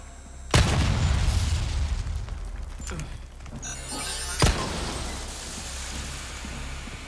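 A flashbang grenade goes off in Resident Evil 4 with a sharp, loud blast followed by a sustained ringing wash, then a second sharp crack a few seconds later, with no talking.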